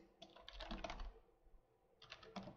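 A password being typed on a computer keyboard comes as two short bursts of quick, light key clicks separated by a brief pause, close and quiet.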